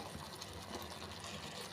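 Water poured into a pot of simmering drumstick (murungakai) kuzhambu, a Tamil tamarind curry, giving a steady close trickle and splash of liquid for the whole short stretch, with no talking over it.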